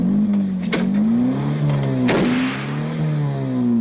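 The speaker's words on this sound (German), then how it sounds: "Hey, gib nicht so viel Gas." A car engine revs steadily as the driver accelerates, a continuous loud drone with pitch rising and dipping, and a couple of sharp knocks, close up with no talk.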